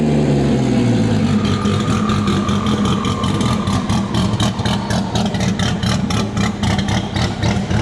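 A big turbo Barra engine runs after a new throttle body and pedal setup, idling loud and close with a lumpy, rhythmic pulsing and clatter that holds steady throughout.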